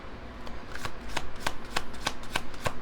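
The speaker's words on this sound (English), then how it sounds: "Let's pick out some cards" Tarot cards being shuffled by hand, a steady run of crisp riffling flutters repeating about every third of a second, close and fairly quiet with no voices.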